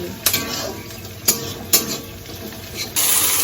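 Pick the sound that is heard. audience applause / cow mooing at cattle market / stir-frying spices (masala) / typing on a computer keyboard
stir-frying spices (masala)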